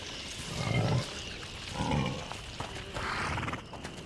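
A pig in the video game A Plague Tale: Innocence gives low, rough grunts in a few bursts over a noisy ambient background.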